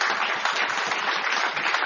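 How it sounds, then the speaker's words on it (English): An audience applauding during a comedy radio show, a brief burst of dense steady clapping with no talk. "Why are they applauding?"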